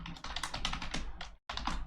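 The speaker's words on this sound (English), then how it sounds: "Having trouble typing today." Rapid clattering keystrokes on a computer keyboard, typed in quick bursts with a brief pause near the end, close and fairly loud, with no talking.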